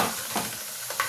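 Onion and tomato sautéing in oil in a pan, soft sizzling with brief stirring scrapes, close and fairly quiet.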